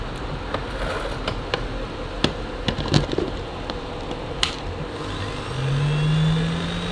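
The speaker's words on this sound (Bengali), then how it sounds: "এটা হলো একটা ভ্যাকিউম মেশিন নাম হলো ইলেকট্রোলা" An Electrolux vacuum cleaner running weakly with a burning smell, giving a steady close motor drone with small clicks and a rising whine near the end.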